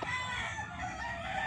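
A young gamecock stag, Lemon F1 Mt Banahaw line, crowing in a close, loud, continuous call lasting the whole moment.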